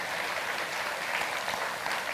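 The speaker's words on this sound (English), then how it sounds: "Can you just give a round of applause for the women at FWD?" An audience at a keynote talk applauds the women at FWD, a steady wash of many hands clapping from a crowd, even in level and heard from a distance.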